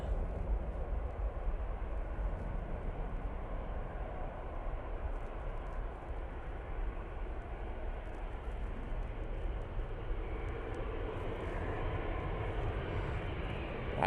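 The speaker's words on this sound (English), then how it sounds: "A320 Neo is going off to Munich" An Airbus A320neo jet departing Manchester Airport for Munich, a steady broad engine roar holding at moderate distance throughout, without voices.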